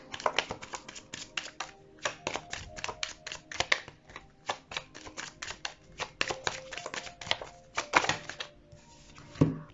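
Playing cards shuffled and drawn by hand, a rapid run of crisp riffling flicks and snaps in bursts with short pauses, close and alone.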